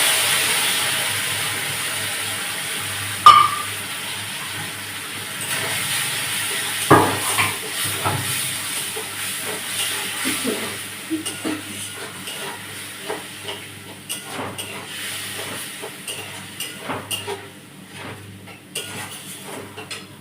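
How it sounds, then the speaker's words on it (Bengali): Fish cooking down with soaked tamarind in a pan for a Bengali puti fish recipe, with a steady soft sizzle under repeated clinks and scrapes of a utensil against the metal pan. "দিয়ে একটু কষে নেবো তেঁতুল দিয়ে।"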